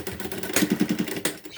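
A sewing machine runs a half-centimetre seam on a half-moon cosmetic pouch, giving a short burst of rapid, evenly spaced needle thumps close by, with no talking.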